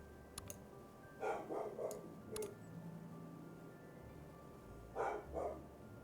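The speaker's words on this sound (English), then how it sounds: "Sorry about my barking dog." A dog barks in the background indoors, two quick bursts of three or four barks each separated by a pause, faint and distant, with small clicks of game sounds between them.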